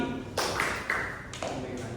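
A group of children claps hands in unison on a spoken cue during a classroom lesson, producing three soft, separate sharp claps spaced about half a second apart.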